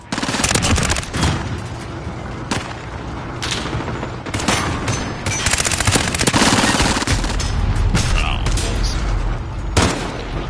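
Rapid automatic gunfire from weapons fired in Modern Warfare, dense bursts and loud sustained fusillades filling the stretch, with someone talking over the shooting.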